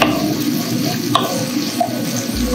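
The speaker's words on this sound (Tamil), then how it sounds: "இப்போ வெங்காயம் வந்து நல்லா வதங்கட்டும்." Small onions sautéing in a pan for chicken chinthamani, a steady soft sizzle and crackle with faint stirring clinks, close and continuous throughout.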